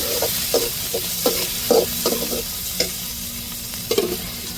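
Tomatoes and chillies sautéing in a pan for a chicken gravy, an even sizzle broken by rhythmic spatula scrapes and taps about every half second, near and clear.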